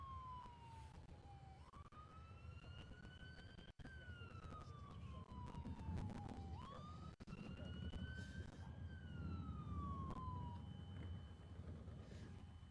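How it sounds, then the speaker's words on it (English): Ambulance sirens wail steadily with slow rising and falling tones, overlapping as vehicles pass along a noisy street in the aftermath of the May 2011 Joplin tornado, moderately distant. "Here comes a couple of ambulances"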